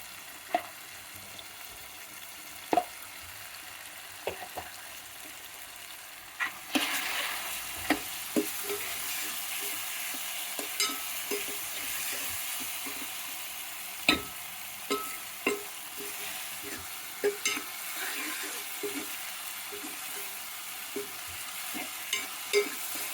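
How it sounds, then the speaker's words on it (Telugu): Capsicum pieces and ginger garlic paste sizzle in a pan for a curry with potato and paneer, with a steady hiss of frying broken by repeated sharp scrapes and clicks of a spoon stirring, no voices. "ఇప్పుడు క్యాప్సికమ్ ముక్కలు కూడా వేసుకోవాలండి. అల్లం వెల్లుల్లి పేస్ట్ వేయాలి."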